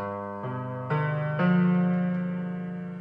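A piano sounds four notes of a dominant seventh chord one after another, each held so they build into a sustained, ringing chord that slowly fades.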